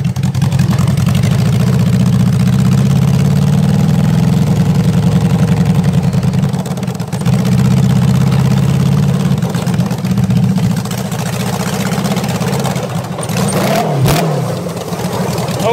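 A go-kart powered by a Honda CB550 engine with an electric shifter runs at close range with a steady droning rumble that steps in pitch as it shifts gears, then dips near the end.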